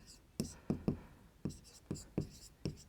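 Pen scratching on paper during a Class 10 maths probability lesson, short sharp strokes in irregular bursts, close and fairly loud with no talking over them.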